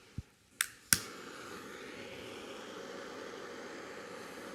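A blowtorch caramelizes a sugar-covered crème brûlée surface: a few sharp clicks, then a steady, soft roaring hiss of the flame that carries on alone.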